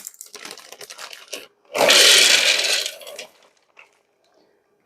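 Peanuts bought at a local market are poured into a large Ninja blender, a dense rattling clatter of nuts hitting the jar lasting about a second and a half, preceded by softer rustling and taps.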